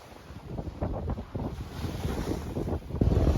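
A sailboat runs through wind and waves outside Gustavia port on St Barts. Gusty wind buffets the microphone over the rushing water and slapping hull, close and steady, with no voices.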